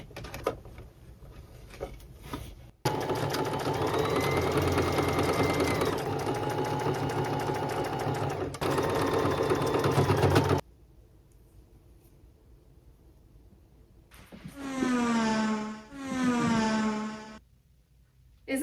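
A sewing machine runs in one long steady burst, stitching a twice-folded serged hem around the armholes of a garment being altered into a tank top, then stops; a voice follows briefly near the end.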